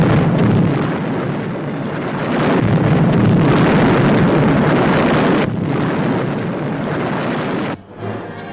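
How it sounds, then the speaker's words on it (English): A deep, roaring boom of churning water and spray from an underwater depth charge explosion rumbles on for several seconds, then cuts off abruptly near the end. "Equipped with powerful depth charges carrying higher explosive power"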